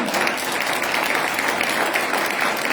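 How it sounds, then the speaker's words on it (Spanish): Church congregation applauding the Lord during worship, a loud, dense, continuous sheet of clapping filling the whole moment without talk. "Dele fuerte aplauso al Señor."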